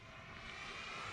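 An FMS 80mm Rafale RC jet flies at full throttle, giving a steady, continuous whooshing roar that holds at an even level and is heard alone, without voices.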